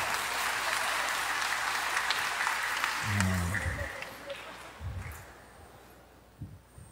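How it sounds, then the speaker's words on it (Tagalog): A church congregation at a Simbang Gabi mass claps loudly together, a dense sustained burst of applause that fades out, followed by scattered faint sounds. "Pumalakpak ng malakas."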